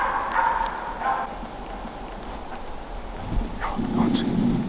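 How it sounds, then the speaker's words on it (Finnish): A Finnish Spitz hunting dog barks a few times at a distance in a forest during a grouse hunt, short sharp calls spaced apart over outdoor background noise. "ja haukku jatkuu"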